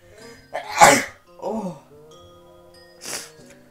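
A person sneezes loudly at close range, a sharp burst followed by a smaller second sneeze and a third short one a moment later, with soft breathy sounds in between.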